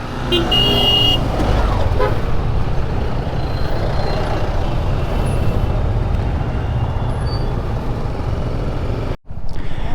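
Heavy traffic jam of cars and a bus on a bridge over a mountain road, a dense steady rumble of idling engines up close, with a horn toot near the start and a brief sharp cutoff near the end.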